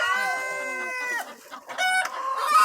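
Hens cluck and squawk in a backyard chicken coop, with a long drawn-out call followed by several shorter close, loud clucks.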